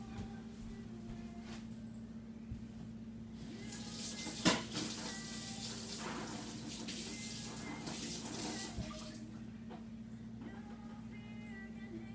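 Water runs from a kitchen tap in a hissing rush for several seconds while something is rinsed, with a brief clatter, over a low background hum.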